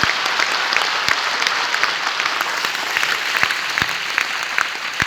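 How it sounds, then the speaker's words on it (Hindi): Loud, sustained applause from a large crowd at an award recognition ceremony, dense steady clapping with a few sharper individual claps standing out, no talking over it. "एक बार जोरदार ताली हो जानी चाहिए"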